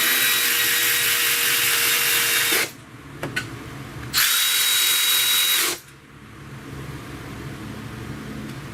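A 1/4-inch drive power tool runs in two loud, sustained bursts of a few seconds each, tightening bolts during an alternator replacement on a Pontiac G6 2.4L, with brief clicks and quieter shop noise between and after.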